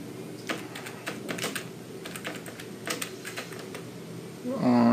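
Fast, uneven typing on a computer keyboard while entering a username and password during a Drupal 7 install on Windows 7, a dense run of clicky keystrokes close to the mic, ending in a brief louder rustle.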